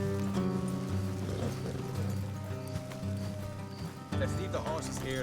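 Horses gallop in the Red Dead Redemption 2 video game, a steady rhythmic hoof clatter under a bed of game music and ambience, with a brief pause before the hoofbeats resume.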